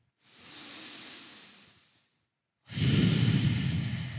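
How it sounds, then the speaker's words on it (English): Slow breaths drawn in and out through the nose while holding a plank in a core workout, first a long soft exhale, a short pause, then a louder, rougher breath close to the mic, with no talking. "remember to breathe in and out of your nose"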